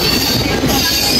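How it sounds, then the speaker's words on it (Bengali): A train pulls into Panjipara railway station, a loud, close, continuous rumble and grinding of wheels on rails that holds steady throughout. "ট্রেন দাঁড়িয়েছে পাঞ্জিপাড়া রেলওয়ে স্টেশনে"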